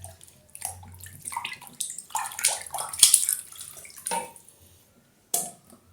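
Water splashes and runs intermittently in a sink as fish are washed by hand for pekasam, with gurgles and drips between bursts, fairly close and with no talking.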